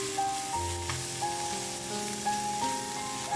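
Cucumber and shrimp stir-frying with salt and oyster sauce give a steady, close, continuous sizzle with faint stirring, under soft melodic background music and no talking.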